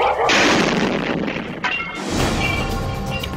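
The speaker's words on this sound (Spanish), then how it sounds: "un estruendo remece el grupo 6 del sector Huáscar" A bomb explodes in front of a school in group 6 of the Huáscar sector, captured in news footage: a loud, broadband boom and crash followed by a rumbling, debris-filled roar.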